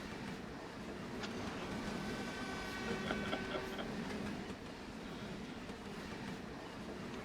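Shinkansen bullet trains rushing past in the Clubhouse Games video game, a steady broad rumble with rail clatter and faint tonal chimes midway, continuous throughout.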